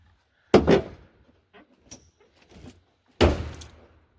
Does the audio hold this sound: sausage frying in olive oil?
no